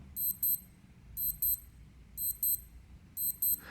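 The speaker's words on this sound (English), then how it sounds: "let's just show the alarm sound" Four bursts of high, rapid double beeps from the alarm of a Casio Pro Trek PRG-600 digital watch, evenly spaced and fairly clear over a quiet background.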